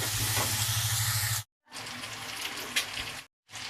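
Pointed gourd sizzles steadily in a hot pan while being stirred, the frying hiss cutting out briefly twice before resuming.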